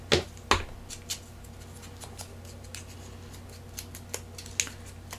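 Scissors snipping through paper while trimming a craft tag pocket, a few crisp close cuts with soft handling rustles between them, quiet and without talking.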